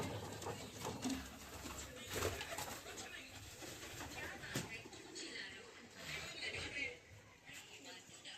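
Racing pigeons let out of their loft, with soft cooing and bird calls scattered through outdoor background noise, brief wing flutters and a few light knocks, no clear talk.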